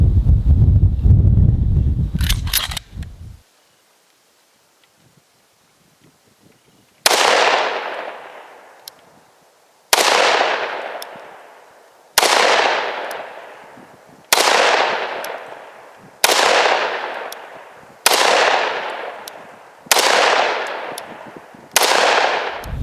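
A Desert Eagle .44 Magnum pistol fires nine loud, sharp shots at a steady pace about two seconds apart, each with a ringing decay. A stretch of rustling and near-silence comes before the first shot.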